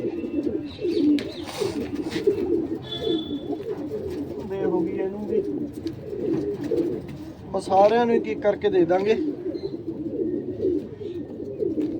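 Pigeons coo in soft, repeated throaty bursts underneath steady conversation, with a few brief chirps mixed in nearby.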